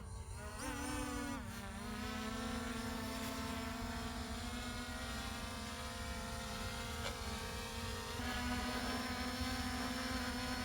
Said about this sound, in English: This is why I like to let it hover for a minute before I take it out and buzz it around